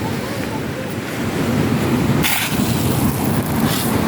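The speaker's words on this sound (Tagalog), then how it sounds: "Oh, laki na alon." Large ocean waves churn and surge onto a pebble shore in Palawan during a signal number 2 typhoon, a loud continuous roar with heavy wind noise buffeting the microphone and a brief crash midway.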